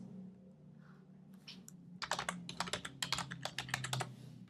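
Someone types on a computer keyboard up close, with a quick burst of crisp, rapid key clicks after a short quiet pause, ending in a final keystroke.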